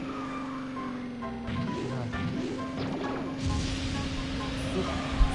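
A kart skids through a drift in KartRider Rush Plus, with tire squeal and a crash-like impact over a steady engine hum and game music, mid-loud throughout.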